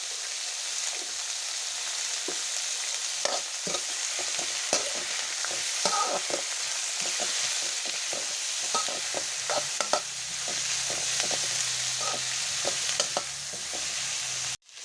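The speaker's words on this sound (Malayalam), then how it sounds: "കറിവേപ്പില, ഇത് നന്നായിട്ടൊന്ന് വഴണ്ട് വരട്ടെ" Onions and curry leaves sauté in a pan for duck curry, a bright steady sizzle with frequent close spatula scrapes and taps throughout, ending in a brief low rumble and a sudden cutoff.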